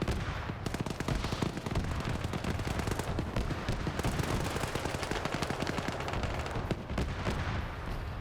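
Rapid, dense gunfire crackles nonstop during a nighttime PvP battle in a military video game, mixing automatic bursts and single shots at moderate distance with no talking.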